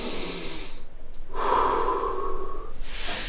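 One slow, deep breath taken during a beginner floor mobility session in a bedroom, a long airy inhale followed by a steady exhale, close and clear with no talking.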